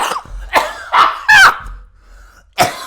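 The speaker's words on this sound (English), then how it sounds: "Now I'm coughing." Several sharp, loud coughs close to the microphone in quick succession, then a final cough after a brief pause.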